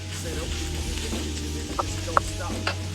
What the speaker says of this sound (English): Now let's add some mushrooms.